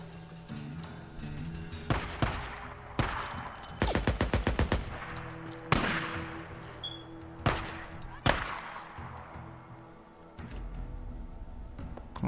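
Gunfire in the video game Days Gone during a cave ambush camp fight, with sharp single shots and a rapid burst of repeated fire spread across the clip, moderately loud over a low background rumble.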